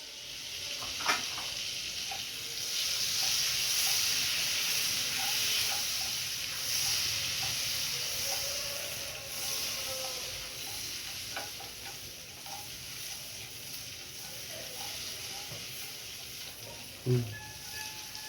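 Whole garam masala, cardamom pods and cinnamon sizzling in melted butter in a pan, a steady soft frying hiss with faint crackles and a sharp clink near the end, no speech.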